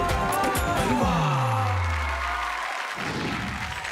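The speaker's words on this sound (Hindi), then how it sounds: "जोरदार तालियों से स्वागत कीजिए।" An audience at a Kavi Sammelan poetry recital in India applauds and cheers to welcome a poet onto the stage, a dense wash of crowd clapping with a descending tone sweeping through it, steady and fairly loud throughout.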